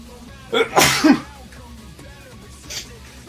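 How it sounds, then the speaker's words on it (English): A single sharp sneeze bursts out close by, with a quick inhale before it, then quiet room tone and a faint rustle. "I'm about to sneeze."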